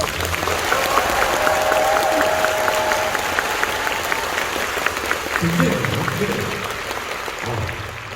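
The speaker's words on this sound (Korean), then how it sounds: "이 모든 분들께 다시 한 번 큰 박수 부탁드립니다" A concert audience applauds loudly and steadily at an encore show in Seoul, a dense crowd clapping that fills the whole stretch at an even level.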